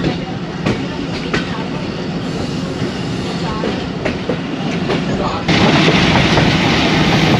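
Ravi Express train rolling along a classic branch line toward Lahore Junction, a steady loud rumble with rhythmic clickety-clack of wheels over rail joints, growing louder and brighter near the end.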